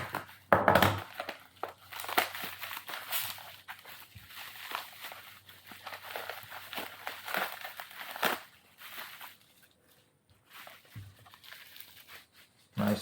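Soft packaging around a Rion Curve throttle is unwrapped and crumpled up close in irregular crinkling bursts with quieter pauses between them.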